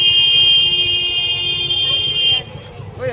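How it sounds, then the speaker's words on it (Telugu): A vehicle horn sounds from behind on a road, one long steady blare held close and loud for a couple of seconds, then cut off, with a voice speaking just after. "ఎవరప్పా వెనక హారన్ కొడుతున్నారు."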